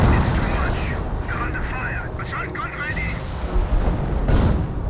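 M2 howitzer artillery barrage in Company of Heroes, a World War II strategy game, with repeated booming impacts and crackling blasts in a dense rolling barrage, under a commentator's voice.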